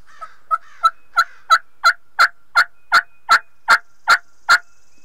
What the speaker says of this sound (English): We didn't hear much at first light except for one gobbler way off.